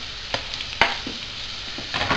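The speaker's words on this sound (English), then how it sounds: "start frying this stuff just in a little separate frying pan" Food sizzles in a pan, broken by a few sharp scrapes and clicks of stirring, with no voices.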